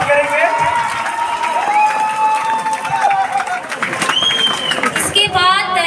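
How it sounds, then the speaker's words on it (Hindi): Crowd at a parish youth seminar in Charbandia giving loud, sustained applause and cheering to welcome a priest, a dense wash of clapping over nearly six seconds with some voices and whistle-like tones mixed in. "जोरदार तालियों की गड़गड़ाहट से फादर का स्वागत करेंगे।"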